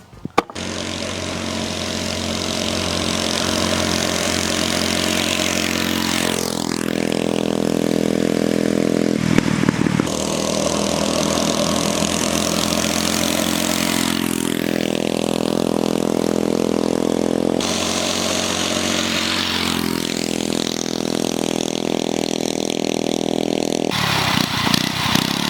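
A Motovox mini bike engine drones loudly and continuously during a speed test, rising and falling in pitch as it revs up through repeated acceleration runs, close and without talk.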